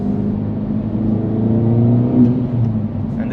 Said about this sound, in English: Rev matching is super easy. We have a really rev happy motor.